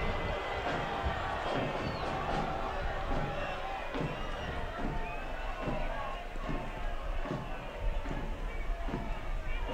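Stadium crowd at a San Diego Loyal SC versus FC Tulsa soccer match reacting to a foul, a steady broad roar of distant voices with scattered thumps, heard beneath commentators talking.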